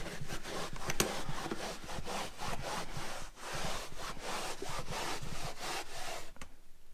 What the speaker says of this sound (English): All you do is just rub it on your carpet.